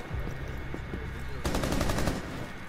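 Gunshots in the video game Rainbow Six Siege: a quick rapid burst of automatic fire cracks out loudly mid-clip over a low ambient rumble, with no voices heard.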